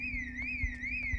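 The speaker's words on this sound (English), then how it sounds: "Another fucking alarm." A car alarm in Project Zomboid wails in a smooth rising-and-falling electronic tone over a steady low hum, moderately loud and continuous with faint thuds underneath.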